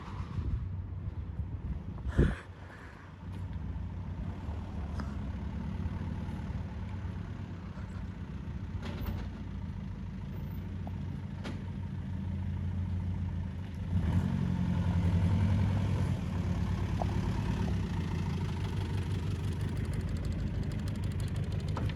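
A Range Rover Classic convertible's turbo diesel engine idles steadily at moderate distance with an even low rumble, a sharp knock early on and a slight rise in revs midway.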